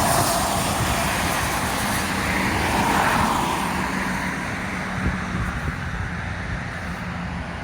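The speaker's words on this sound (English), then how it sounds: "No, there isn't a break in the traffic." Continuous roar of busy road traffic on Station Road near Skeoch Roundabout, vehicles passing close by in a loud, unbroken rumble that swells and eases slightly without any gap.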